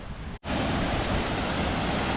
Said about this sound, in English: And this is where the waterfall starts.